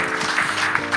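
An audience at a church general assembly talk program claps in a brief, dense patter of applause mixed with faint background tones.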